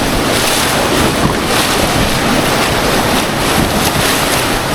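Roaring whitewater rapids on the Pigeon River during a rafting run, a dense, steady rush of churning water and wind buffeting the microphone, loud and continuous with no voices.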